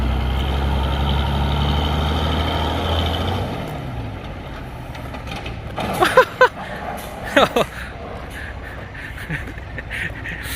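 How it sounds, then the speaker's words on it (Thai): A modified sugarcane grab loader truck drives fast, its engine a steady loud drone that fades out. A few sharp, quacking honks or beeps follow against outdoor background noise. "รถขีบซิ่งนะครับ วิ่งในเร็วนะครับ"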